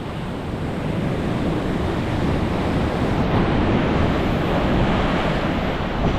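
Steady roar of ocean surf washing up on the main beach at Phu Quoc, Vietnam, a full broadband rush with some wind noise on the microphone.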